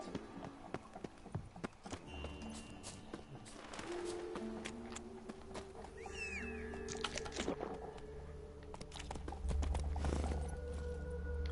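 Roach, the horse in The Witcher 3: Wild Hunt, trots with rhythmic hoof clip-clops over a low ambient bed, with a brief whinny partway through and a heavier rumble near the end.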